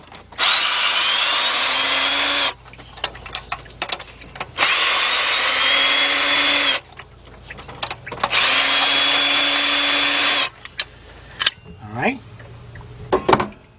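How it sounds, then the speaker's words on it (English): A power tool drives out the 15mm tensioner bolts on a 2006 Chevy Express van during a water pump job, with three loud, sustained whirring bursts of about two seconds each, close up and separated by clinks of metal. "the next thing I'm gonna do is remove the tensioner. Got 3 bolts"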